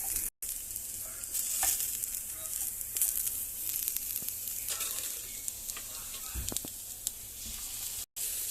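Onions frying in a pan for an egg bhajia, a steady close sizzle throughout with occasional stirring scrapes and small pops, no talking.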